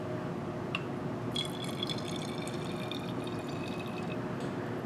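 Liquid poured back into a glass separatory funnel during an aqueous wash in a 1-bromobutane purification, a steady, fairly quiet trickle and splash running continuously and close by with no talk.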